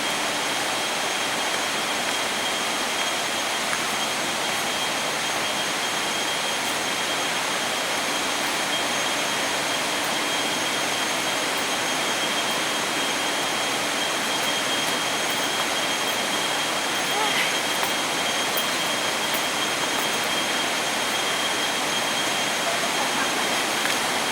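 Steady, broadband roar of Tad Gneuang waterfall, a dense unbroken wash of falling water at even loudness throughout, with no clear voices over it.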